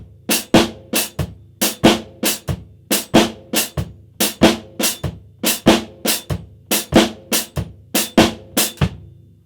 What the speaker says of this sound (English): It sounds like a shuffle beat with accents on the upbeats.